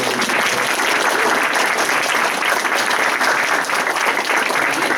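Loud, dense applause fills a hall at a university honors graduation convocation, steady and sustained without a break.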